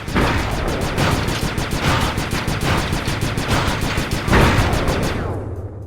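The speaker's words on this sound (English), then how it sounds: "I'm overriding the spotlight security gun" Spotlight security gun firing in the video game Sly 2, Band of Thieves, at the Black Chateau: a loud, rapid automatic burst of shots that rattles on steadily for about five seconds, then cuts off.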